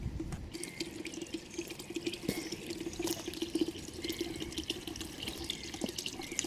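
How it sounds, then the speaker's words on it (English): Water emptying from a stone structure toward a canal route, a steady trickling, splashing flow with light drips, fairly quiet and continuous, heard alone outdoors. "Here we find another structure from which water empties in the direction of the canal route."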